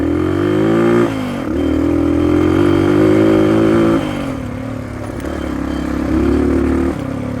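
Dirt bike motorcycle engine on a rocky trail, close and loud, revving up and easing off in several surges with clattering mechanical noise and no speech.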